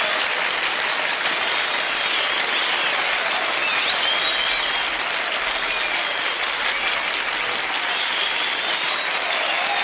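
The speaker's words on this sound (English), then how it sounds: "Big applause." Audience applause at a radio show recorded at a club venue, loud and sustained many-handed clapping running the full length with faint cheering woven in.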